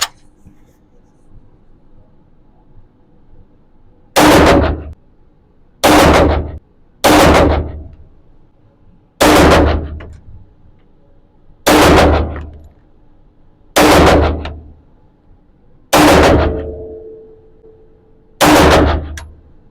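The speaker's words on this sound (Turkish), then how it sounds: "Atışım gerçekleştirdim arkadaşlar." Pistol shots at a 25-metre shooting range ring out one at a time, eight sharp, loud reports at uneven intervals with quiet gaps between them.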